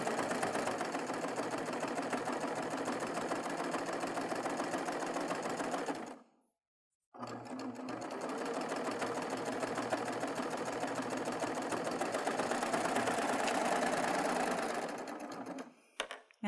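A Baby Lock Triumph serger sews a flat lock stitch in a fast, steady mechanical whir, close and continuous, stopping briefly in the middle and again near the end.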